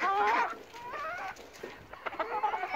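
Chickens from a laying flock with a cockerel cluck in short, throaty bursts nearby, a few calls overlapping outdoors on a mild, breezy day.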